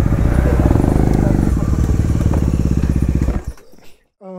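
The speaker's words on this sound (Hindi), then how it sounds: "ये बंदा कह रहा बाइक ऊपर लेके जाऊँगा" A motorcycle in the Aravalli Hills near Gurgaon runs loud and close with a rapid, throbbing engine note for about three seconds, then cuts out sharply, leaving near quiet and a brief faint sound at the end.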